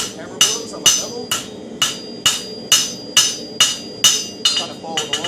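A hammer strikes hot steel on an anvil while a bevel is drawn down for an herb chopper, about a dozen sharp, ringing blows in a steady rhythm, close and loud, with no talking.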